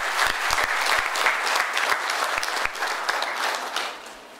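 An audience applauds to welcome the chief guest at a Hindi official-language meeting and award ceremony in Kolkata, a close, steady wash of clapping with a few sharp individual claps standing out.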